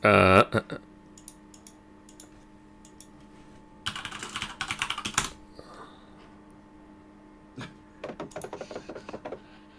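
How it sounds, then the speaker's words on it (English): Rapid computer-keyboard typing during a tabletop Dungeons and Dragons session comes in several bursts of close, clicky keystrokes separated by pauses, with a brief voice at the very start. "they look like a whole lot of typing."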